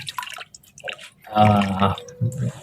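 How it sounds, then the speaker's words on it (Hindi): Water is poured over a bathing rabbit standing on its hind legs, giving scattered drips and splashes in short, uneven bursts, close by with quiet gaps between them. "ऊपर से पानी दूं इसको मैं"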